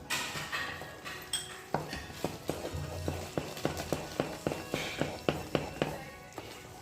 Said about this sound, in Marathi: गॅस बंद करून ना एकसारखं हलवायचं